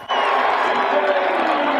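A motor race crowd cheers loudly, a dense roar of many voices that swells in abruptly and holds strong, with no single speaker standing out.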